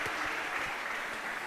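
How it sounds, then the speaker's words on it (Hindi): An audience at a Hindi discourse on Sanatan Dharma breaks into a brief, steady round of clapping, dense and close, with no voices over it. "एक बार ताली बजाइए आपके लिए"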